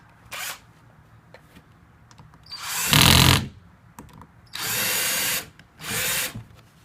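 A power drill drives screws into a ride-on toy fire engine during assembly, four loud whirring bursts of a second or less, separated by brief quiet gaps.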